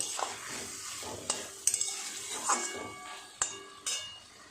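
Taro stolons cook with shrimp in a pan while being stirred, a soft sizzle broken by repeated scrapes and metallic clanks of the spatula against the pan, close and irregular.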